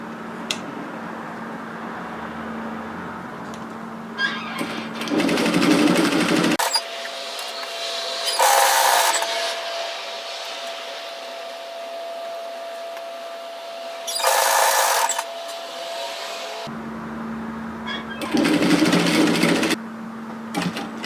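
A sewing machine stitches the facing down the centre front of a knit teddy jacket in several short bursts of whirring, separated by quieter pauses with faint hum and handling sounds.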